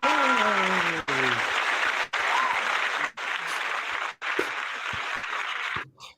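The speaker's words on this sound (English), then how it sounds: "That is Ryan Satin giving a round of applause" A round of applause from a small group, loud and close, in several bursts of clapping broken by short gaps, with a few whoops mixed in.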